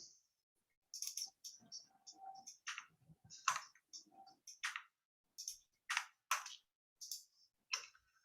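Typing on a computer keyboard, heard as sparse, faint key clicks in irregular bursts against near silence.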